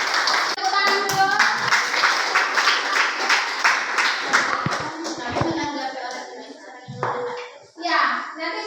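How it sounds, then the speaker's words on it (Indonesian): A class of schoolchildren claps together for several seconds, a dense patter of hands that thins out as young voices and chatter take over near the end. "Oke, tepuk tangan. Tepuk tangan dulu."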